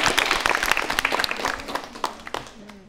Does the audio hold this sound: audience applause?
yes